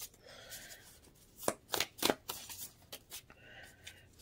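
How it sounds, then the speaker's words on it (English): Tarot cards are shuffled up close at a table in a quiet room, giving a series of crisp riffling bursts and soft slaps. "let's go ahead and start the shuffle"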